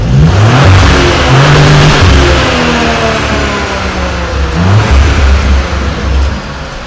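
A 2020 Audi RS5 with a six-cylinder engine revs hard nearby. The engine note rises and falls in loud sweeping pulls that fill the whole stretch, and no voice is heard.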